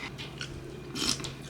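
Close, crisp crunching of dry chocolate cereal being chewed, a few bites in quick succession.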